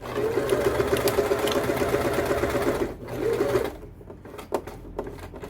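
A sewing machine stitches an X pattern to join the elastic in a pair of shorts. Its loud, rapid, continuous whir lasts over three seconds, then cuts off and leaves a few faint clicks.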